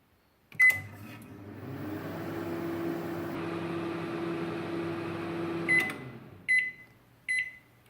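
An 800 watt microwave oven set to medium low hums steadily for about five seconds after a sharp start click, then stops, followed by a few short loud beeps.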